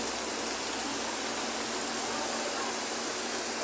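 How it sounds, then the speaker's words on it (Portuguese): Heavy rain pouring down in Fortaleza, Ceará, a steady dense hiss of downpour that stays loud and even throughout, with no voices. "Chuva demais."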